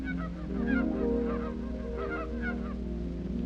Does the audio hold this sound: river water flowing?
no